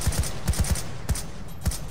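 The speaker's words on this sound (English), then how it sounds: "Oh shit, MG!" Video game machine gun fire comes in short, rapid bursts of sharp cracks with thumping low ends and brief gaps between volleys, sounding loud and close.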